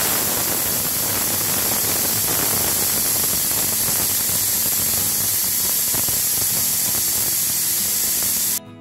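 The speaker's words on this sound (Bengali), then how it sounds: "এবার আমি প্রেসার কুকারের ঢাকনাটা আটকে দেব আর 6 থেকে 7টা সিটি দিয়ে" A pressure cooker of mutton curry on a gas flame vents with a continuous loud hissing whistle of steam that holds steady and then cuts off abruptly at the end, with no voices.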